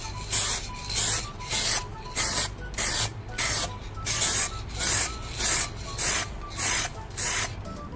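Spray painting a Fiat Barchetta brake part with an aerosol can: about a dozen short, evenly spaced hissing bursts, each roughly half a second long, close and clear with no talking.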